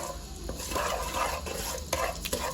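Sugar being stirred into ghee in a pan on the stove for homemade popcorn: continuous scraping and stirring with soft sizzling, a few sharper clinks of the spoon against the pan.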